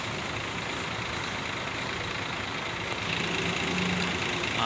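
A truck engine rumbles steadily nearby, a low continuous drone that swells slightly louder toward the end.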